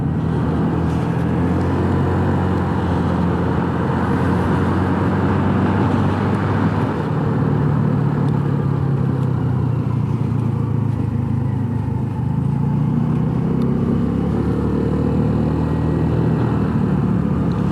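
Ride on a Honda NAVI mini motorcycle during a commute, with steady engine drone and road and wind noise running continuously throughout, close and fairly loud, with no talking.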